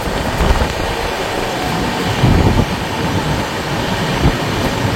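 The Guwahati Garib Rath Express runs past Kanki station with a loud, continuous rumble and roar heard from on board, rolling steadily with faint clatter throughout.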